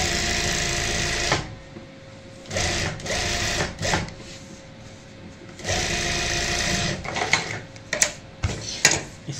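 Sewing machine stitching fabric pockets of a hanging organizer made from leftover cloth, loud rapid bursts of stitching separated by short pauses and handling noises, with no voices.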